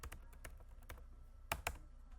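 Keys on a computer keyboard are tapped in a brief, irregular burst of light clicks, with two sharper, louder strokes near the end, close by and with no voices over them.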